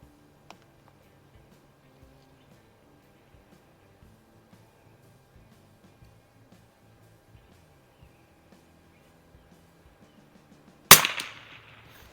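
A single sharp rifle shot from a 1968 Savage Anschutz 64 fitted with a Vector Optics Veyron 4-16x44 compact scope, cracking loudly near the end after a long stretch of quiet with faint ticks.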